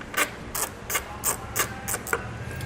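A ratchet fitted with a 10mm socket clicks in seven evenly spaced, crisp bursts while removing a bolt during a Curt trailer hitch install on a 2014 Kia, close and loud with no talking.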